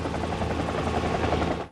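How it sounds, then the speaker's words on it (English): A helicopter arriving during a disaster-drama rescue, its rotor thudding as a steady, loud, close drone that fills the whole moment with no voices over it. "헬기가 도착합니다."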